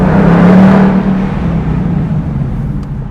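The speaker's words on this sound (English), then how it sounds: "if you do ever get the opportunity to drive a Mustang Mach 1 or a Bullitt or something like that with the active exhaust, you may find yourself doing this" A Ford Mustang Mach 1 with active exhaust revs hard in one loud, close, deep roar that peaks early and then slowly fades as the engine settles back down.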